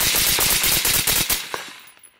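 Rapid gunfire from an unsuppressed CMMG Mutant 10-inch rifle with a binary trigger, a loud, close burst of quick shots in fast rhythm fading into echo.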